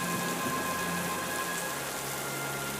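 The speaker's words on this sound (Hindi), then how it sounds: "बारिश रात से ही रुकने का नाम नहीं ले रही थी।" Steady heavy rain hisses down onto surfaces, an even, dense wash of sound with no voices.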